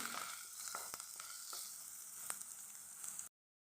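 Onions, green chillies and salt frying in a pan for a drumstick curry, a continuous close hiss of sizzling oil with occasional light stirring scrapes, then an abrupt stop.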